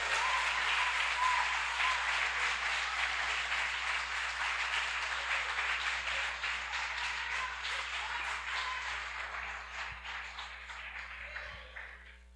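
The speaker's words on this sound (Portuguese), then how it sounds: "dê um aplauso ao Senhor Jesus" Church congregation applauds during a sermon, a long sustained wash of many hands clapping at moderate distance that gradually thins and tails off near the end, with a faint steady hum beneath.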